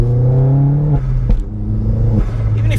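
Vauxhall Astra VXR Nurburgring Edition engine revving, loud and close, a strong harmonic drone that holds, dips briefly and climbs again as the revs rise and fall.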